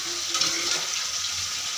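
Fish frying in a pan makes a short burst of steady, close sizzling and bubbling with no voices over it.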